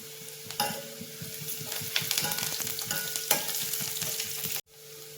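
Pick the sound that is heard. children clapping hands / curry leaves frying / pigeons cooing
curry leaves frying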